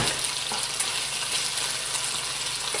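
Bacon frying in a pan while a fork pulls the strips apart, giving a steady, close crackling sizzle throughout with faint scraping.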